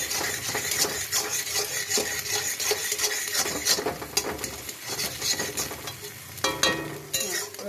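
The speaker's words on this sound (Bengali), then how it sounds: "পেঁয়াজটা ভেজে নেবো" Onions fry in a pan with a continuous sizzle, while a utensil repeatedly stirs and scrapes against the metal. The sound stays close and moderately quiet throughout.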